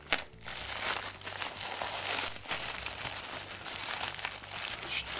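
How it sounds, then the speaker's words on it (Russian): Crinkling and crumpling of an AliExpress parcel's plastic packaging being opened, a steady close rustle with a few sharper tearing crunches, running continuously without any talk. "Так, открываем первую."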